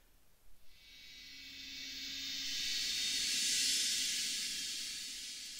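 A cymbal roll drenched in heavy, overly aggressive reverb swells as a soft, washy hiss, building to a peak then slowly fading, faint and alone after two brief taps at the start.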